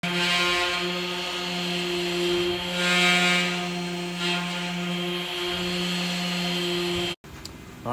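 A power sander works a surface with 800 grit sandpaper, a loud steady motor whine with strong harmonics holding throughout before cutting off abruptly near the end.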